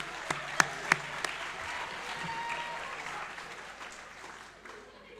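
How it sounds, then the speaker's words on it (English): Audience applause for student workers at a student-athlete awards ceremony, a few sharp claps first, then a steady wash of clapping from a large crowd that gradually fades over about five seconds. "A round of applause for our amazing student workers."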